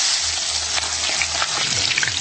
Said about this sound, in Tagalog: Butiki, ayun, nilagyan ng ano, pampalasa. Grabe. Ayun, piniprito.